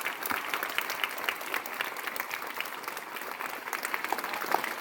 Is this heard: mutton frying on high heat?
no